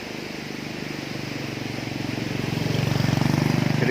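A motorcycle engine idles nearby with a steady low putter that slowly grows louder and rougher, as if revving up or approaching.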